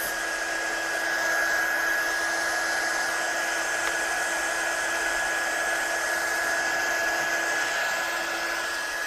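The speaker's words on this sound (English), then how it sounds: "So I'll just dry that off very quickly" A hair dryer blows steadily and close by to dry stamped ink on wood during a bookmaking craft session, a continuous even whir with a high whine holding unchanged from start to finish.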